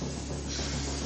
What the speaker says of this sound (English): all I hear is the shower.